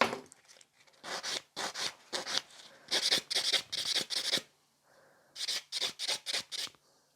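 Rhythmic rasping of a nail file tapering fingernails during final touches of a manicure, bursts of quick back-and-forth strokes in three runs, close and clear with no talk.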